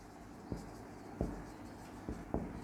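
Marker or chalk strokes on a classroom board, four short sharp scratches spaced irregularly over a quiet room with no talking.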